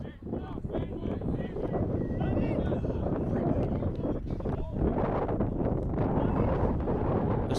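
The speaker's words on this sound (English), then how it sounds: "This wind is very hectic right now." Gusting wind buffets the microphone at an outdoor football match between Woodland FC and Olathe United FC, a steady low roar running the whole time with a commentator's voice faintly underneath.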